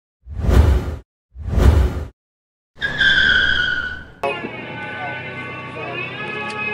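A drift car at a drift demo with an SR20 engine, heard first as two loud whooshing passes, then a sustained high tire squeal that shifts into a steady engine and tire roar, close and loud.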